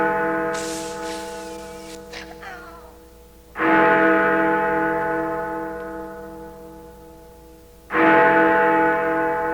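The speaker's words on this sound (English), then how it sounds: "I wouldn't ring that bell unless you have 9 lives to" Two deep, resonant bell strikes from a Halloween sound effect, each loud clang ringing out with a long, slowly decaying echoing tail, alone without talk.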